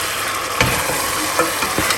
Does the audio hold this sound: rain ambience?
no